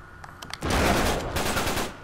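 Shotgun fire in the action video game Uncharted 3: Drake's Deception, with a few faint pops giving way to a loud, sustained burst of gunfire that rolls on to the end.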